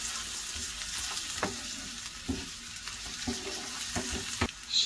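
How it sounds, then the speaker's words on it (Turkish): Onion, pepper and tomato paste sauté in a pan, giving a steady close sizzle with occasional stirring scrapes and clicks and no talking. "Beraberce şöyle bir soteliyoruz."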